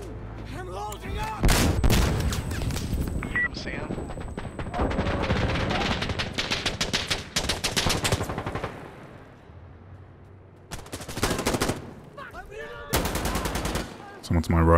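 Gunfire in Insurgency Sandstorm comes in loud, sharp bursts of rapid automatic shots separated by quieter gaps, with the players' voices talking over the shooting.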